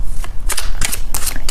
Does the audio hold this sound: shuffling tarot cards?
yes